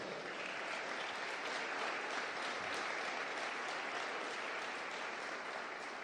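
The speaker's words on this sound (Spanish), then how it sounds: "De un aplauso al Señor" Steady, dense applause from a church congregation during an anniversary celebration service, a continuous even wash of many hands clapping that holds without a break from start to finish.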